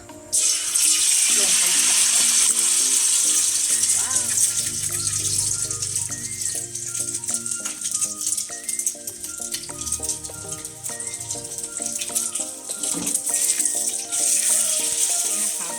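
Egg white frying in a pan for egg fried rice gives a steady bright sizzle throughout, with light rattles of utensil against pan and a voice talking over it at times.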